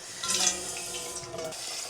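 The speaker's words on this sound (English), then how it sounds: "I'm rinsing with one of these strainers so that I can just strain off the material and put it on my plants." Running water splashes and trickles through a strainer as spring flower material is rinsed at a sink, close and steady with a brief louder gush early on.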